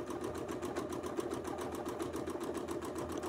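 Sewing machine doing free-motion quilting on a detail quilt, its needle hammering in a fast, steady rhythm with a low motor hum underneath, continuous and close, with no voices.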